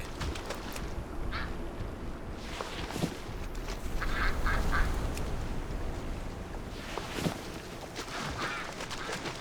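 Duck quacking in World of Warcraft, several separate nasal quacks spaced across a stretch of game ambience, moderately loud and close, with no talking.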